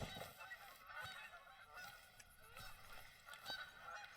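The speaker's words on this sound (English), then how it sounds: "Oh, that is a persistent goose noise." Geese honk repeatedly in TheHunter: Call of the Wild, a hunting video game, sounding like a flock landed at a moderate distance. The calls come in a steady, persistent chorus over an outdoor ambience.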